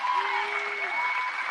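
Audience clapping at a Trump speech, a steady wash of applause from a crowd heard over a tonal hum, continuous and fairly even throughout.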